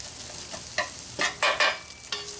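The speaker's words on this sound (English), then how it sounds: "we're going to put in 1 roughly chopped medium onion. And just kind of break those up and let them start browning" Roughly chopped medium onion sizzles in oil in a pan over grill coals, with soft crackling, scraping and stirring sounds that come in short bursts, fairly quiet and close.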